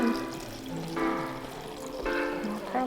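Salt brine pouring into a jar of peppers packed for fermenting, a steady liquid gurgle and trickle running throughout with a few brief surges, close by.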